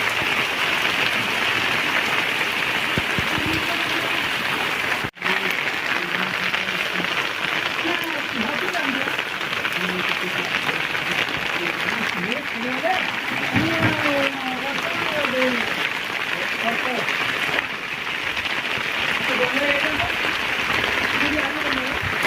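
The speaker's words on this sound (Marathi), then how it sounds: "फोड करता करता पाऊस पण आला बघा दिसत आता पूर्ण पाऊस पूर्ण पाऊस पडला आहे" Steady rain pours onto a farm field in the Konkan region, a dense continuous hiss throughout, with scattered faint bird-like chirps and one brief thump near the start.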